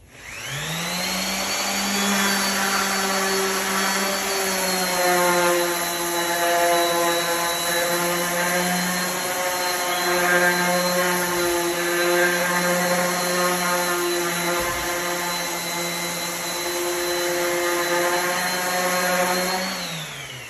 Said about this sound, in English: we're going to sand the top of the shelf, get rid of the cut from the saw blade